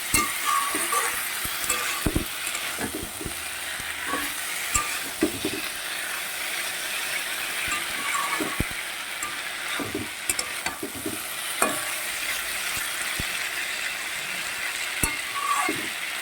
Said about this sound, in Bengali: এবারে আমি এটা খুব সুন্দর নেড়ে করে ভেজে নেবো কিছুটা সময় ধরে ভাজবো এটাকে